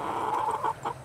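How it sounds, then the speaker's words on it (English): Backyard hens pecking at broccoli give soft, short clucks and murmurs, close and fairly quiet, in a brief burst. "they're really enjoying pecking at this broccoli"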